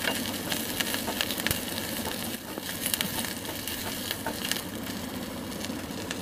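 Onions frying slowly over a low flame in a pan, a soft continuous close sizzle with faint scattered crackles and occasional light clicks.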